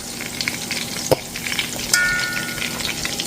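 Meatballs cook slowly in a pan with a steady crackling sizzle, punctuated by a couple of sharp clinks and scrapes near the middle and again later.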